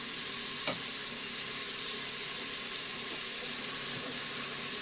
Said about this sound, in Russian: чуть-чуть обжарим